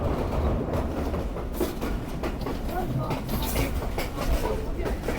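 Sialkot Express passenger train rolling slowly between Lahore and Sialkot toward Badomali, steady rumble and rhythmic wheel clatter heard from inside the carriage.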